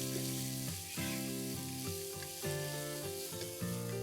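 Two large shredded onions with a whole green chili sizzle and fry in a pot, a steady hiss heard throughout beneath louder background music.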